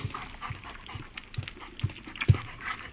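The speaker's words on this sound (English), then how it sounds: "You're a good dog, that's right." A dog pants in short, rhythmic breaths inside the video game LostInBlindness, close and fairly quiet, with a few sharper puffs near the end and no talking.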